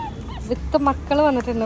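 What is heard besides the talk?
family of dogs barking and whimpering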